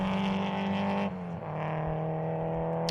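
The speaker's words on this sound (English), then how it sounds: "Here he comes into pit lane now." A race car at a regional extreme racing festival drives into the pit lane for a tyre change, its engine droning steadily and dropping in pitch partway through as it slows, loud and close.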